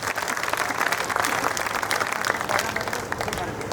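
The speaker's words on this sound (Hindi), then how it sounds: "हाथ खड़े करके जोरदार तालियां बजाएं" Vigorous applause fills a hall at a Hindi comic poetry gathering, many hands clapping loudly and continuously with hands raised, a dense, sustained crowd sound with voices mixed in.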